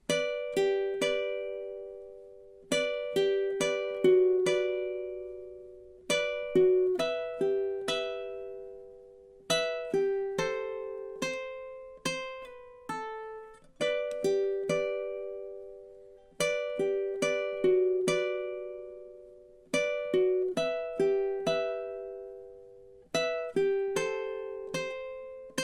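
Solo ukulele plays the full first melody of The Office theme in time, crisp plucked notes and chords repeating in lively phrases that decay quickly, clear and close with no voices.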